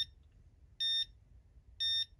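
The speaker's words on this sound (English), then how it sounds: "Alarm is going off. Little monkey is playing with the bell." Alarm ringing on a Nintendo Game & Watch Lion handheld: two short, piercing electronic beep bursts, evenly spaced about a second apart, sounding clearly over a faint low hum.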